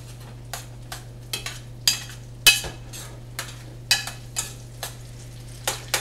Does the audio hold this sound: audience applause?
no